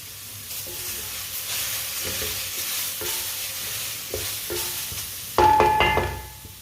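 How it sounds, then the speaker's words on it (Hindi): Carrots roasting and being stirred in a pan, with a steady sizzle broken by scraping stirs and a louder clatter near the end, no voices. "गाजरों को मैंने 4-5 मिनट के लिए पका लिया है, भून लिया है इसे"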